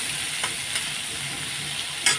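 Salted onions sizzle in a pan with a dense, steady hiss, and a few brief spatula scrapes and one sharper clatter near the end, close up with no talking.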